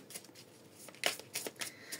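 Tarot cards are shuffled and drawn for a reading, with soft riffling and a few crisp card slaps, close and quiet.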